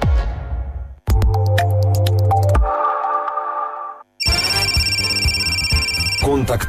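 A telephone rings in a Macedonian radio advertisement, with bright electronic ringtone-like tones and bells among shifting musical jingle segments, fairly loud, and a voice speaking around it.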